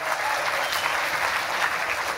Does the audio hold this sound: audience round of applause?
yes